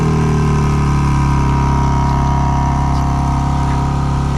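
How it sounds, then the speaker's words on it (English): A 2024 BMW M3 Competition with quad-tip dual exhaust idles after a remote start, a loud, steady low engine drone close by without variation or talk. "We have the quad tip dual exhaust, which you can also remote start."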